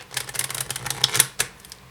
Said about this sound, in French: on va venir mélanger ce paquet avec le dernier paquet